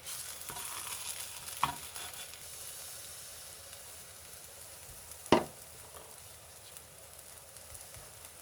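Jang-tteok batter fries in a pan with a faint, steady sizzle, broken by two short clinks of a utensil against the pan.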